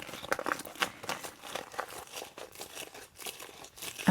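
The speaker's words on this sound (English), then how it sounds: "I'm just going to roll this now and crumple" Paper for a momigami journal is rolled and crumpled by hand, giving continuous close crinkling and rustling with soft crunchy bursts and no talk over it.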